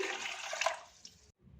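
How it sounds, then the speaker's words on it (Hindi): Two cups (400 ml) of water poured into a pan to make sour water for pani wali phulki: a steady, close, splashing gush lasting about a second before it stops, with no voices. "खट्टा पानी बनाने के लिए एक पैन ले लिया है, इसके साथ ही इसमें 2 कप 400 ml पानी शामिल कर देंगे"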